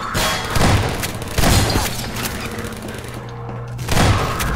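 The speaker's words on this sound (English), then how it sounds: "Maybe I should just use my shotgun." Shotgun blasts from Half-Life 2 gameplay: three loud, booming shots spaced about 1.5 seconds apart, each with a sharp attack and rumbling tail, over a steady low game background hum.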